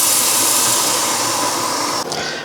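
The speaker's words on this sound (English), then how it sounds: "that's getting rid of any of the oat milk that's gone up into the steam arm" An espresso machine steam wand blasting a loud, steady hiss as it purges leftover oat milk, continuous and close, cutting off abruptly near the end.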